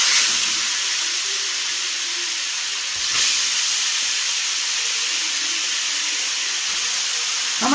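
Grated carrots hit hot melted ghee in a pan, giving a broad, steady hiss that stays bright and even throughout, with a slight surge partway through and a soft clatter at the end.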